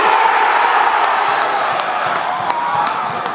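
A crowd at a Wexford versus Dublin match in Ireland roars and cheers without letup, dense whoops and clapping filling the stands, loud and close, with scattered shouts rising above the din.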